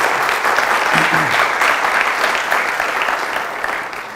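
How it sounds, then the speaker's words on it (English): Audience applause for a speaker at a Web 3.0 security and governance talk: steady, dense clapping from a crowd, loud and sustained throughout with no pauses. "Applause for our friend Ameen"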